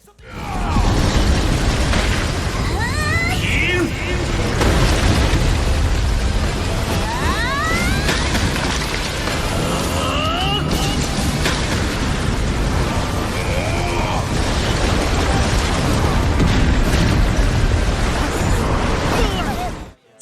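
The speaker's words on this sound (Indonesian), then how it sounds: "melepaskan teknik ledakan es" An ice explosion technique in the Soul Land 2 anime makes a sustained, heavy blast with rumbling booms and crackling bursts that stay loud for about twenty seconds, and a few swooping effect tones sit on top of the roar.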